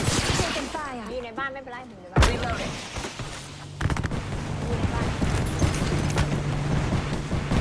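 Gunfire in the Apex Legends video game: a sharp blast followed by scattered bursts of shots over ongoing game noise, with a player talking over the action.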